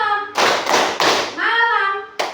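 Schoolchildren in a fourth-grade classroom clap in a call-and-response game, about three sharp, loud group claps in a quick rhythm, with a voice chanting between them and one more clap at the end.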